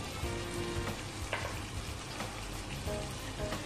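Chicken pieces for a spicy garlic roast frying in a pan over a flame, giving a steady, close crackling sizzle with small pops throughout and no talking.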